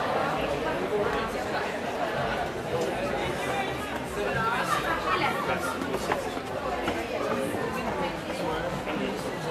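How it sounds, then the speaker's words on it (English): A crowd chatters ahead on a Friday night in Boccadasse, an old fishing village in Genoa: a dense, steady murmur of many overlapping voices from a lively outdoor gathering, with no single voice standing out. "I can just hear the crowd ahead of us."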